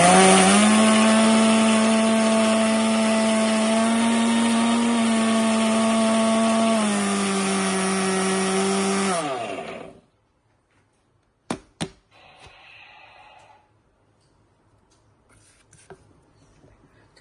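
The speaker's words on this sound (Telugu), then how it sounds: "వెల్లుల్లిపాయలు దంచడం కొంచెం కష్టం కాబట్టి మిక్సీలో వేసేస్తున్నాను." A mixer grinder grinds garlic, salt, chili and gram flour with a loud, high motor whine for about nine seconds, then spins down. A few brief clicks and rattles from the jar follow in near silence.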